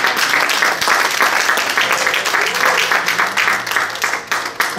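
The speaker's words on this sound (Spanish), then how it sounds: "Un fuerte aplauso al Señor." A church congregation bursts into loud, sustained applause, a dense crowd of hands clapping steadily with a low hum and faint voices underneath.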